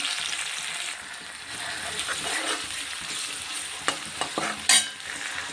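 Garlic cloves and green garlic shoots fry in hot oil, a steady crackling sizzle with several sharp utensil clinks and a brief louder scrape near the end.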